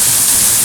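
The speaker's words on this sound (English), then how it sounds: "I've actually got to go through a mini waterfall to get to the main one." Steady rush of water from a small waterfall at Eas Mor pouring onto a raised hood, a dense close hiss with no pauses and no speech.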